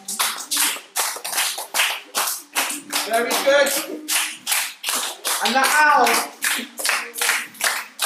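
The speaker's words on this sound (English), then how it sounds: "clap your hands, stamp your feet" Children clapping their hands and stamping their feet on cue during a storytelling show about a fox, an owl and a fish, rhythmic loud bursts of claps and thuds in a steady beat, with an adult voice speaking briefly between them.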